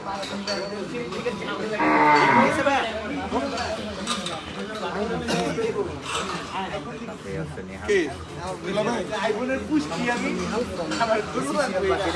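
A cow on a farm moos a few times amid a steady murmur of people talking, with the lowing fairly close and partly masked by the voices.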